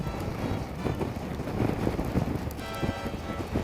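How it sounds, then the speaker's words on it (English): Steady rain mixed with gusty wind buffeting the microphone on the Carretera Austral in Patagonia, a dense continuous wash of noise with low rumbling throughout, no voices. "Oh, it's going to rain a bit."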